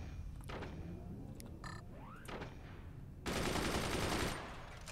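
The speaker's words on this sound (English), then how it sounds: "why are you shooting at me?" Rapid bursts of gunfire from a Forts multiplayer match sound in short clusters, with a long dense volley of shooting in the second half, along with scattered game effects.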